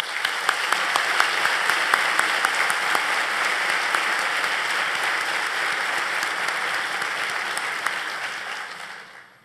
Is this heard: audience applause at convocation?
yes